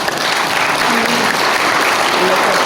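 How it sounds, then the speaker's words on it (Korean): A lecture audience in a hotel hall breaks into loud, dense clapping that holds steady for a few seconds, with a voice speaking over it. "박수 한번 치고"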